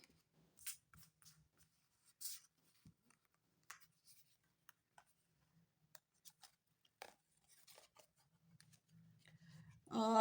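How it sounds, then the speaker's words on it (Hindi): Tarot cards being drawn and handled from a deck in a quiet room, giving sparse soft shuffles, light slides and small clicks spread across several seconds, close and faint with silent gaps between them, until a louder noise at the very end. "चलिए और कार्ड निकालते हैं आपके लिए।"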